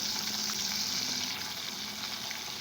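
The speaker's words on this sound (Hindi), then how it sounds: "बिल्कुल स्लो फ्लेम पर हम कोफ्ते फ्राई करेंगे" Koftas fry gently in hot oil over a low flame, giving a steady, even sizzle with a faint crackle that holds close and unbroken throughout.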